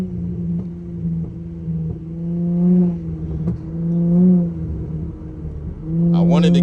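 Car with resonator delete, muffler delete and one cat delete, engine droning and swelling through a few throttle surges while driving, with someone talking over the exhaust.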